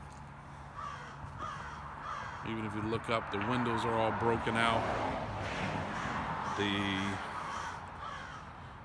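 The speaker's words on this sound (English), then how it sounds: "I hear the crows crowing." Crows caw in short repeated bursts outside a run-down property in Baltimore, clear over someone talking and faint outdoor background noise.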